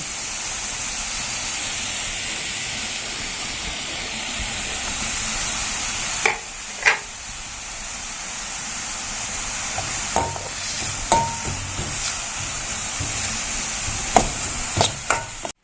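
Onions with ginger and garlic sauté in a pan, giving a steady, soft hiss throughout, punctuated near the end by several sharp utensil clicks and taps.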